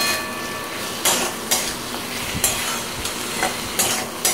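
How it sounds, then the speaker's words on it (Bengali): Pointed gourd is stirred with coriander and cumin powder in a hot pan, sharp spatula scrapes and clinks against the metal arriving every half second or so over a steady, close sizzle. "ধনে গুঁড়ো আর অল্প একটু জিরে গুঁড়ো দিয়ে এগুলোকে একসাথে আমি মিক্সড করে নেব।"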